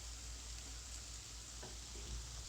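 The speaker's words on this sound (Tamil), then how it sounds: "இப்போ இந்த மசாலாவோட நல்லா வதங்கட்டும்" Paneer gravy masala sautéing in oil, a faint steady crackling sizzle with a few soft stirring scrapes, continuous and close, with no voices.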